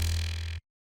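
A Future House synth bass played with its MG Low 6 harshness filter switched off, giving a loud, buzzy, bright sustained tone that cuts off abruptly a little over halfway through.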